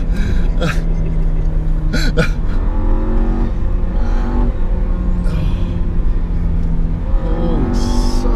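A car engine revs hard toward 7,000 RPM, loud and close, with rising and falling tonal whines across several bursts, while voices speak briefly over it.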